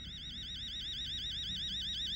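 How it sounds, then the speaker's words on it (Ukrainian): A clock beeps in a steady, rapidly repeating electronic pattern inside the horror video game Fears to Fathom, continuous and fairly close, with a low background hum and no talking. "Це годинник? Він пищить."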